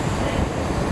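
An IET train rumbles through a railway station with a broad, steady roar of wheels and motion, loud and continuous for a short moment.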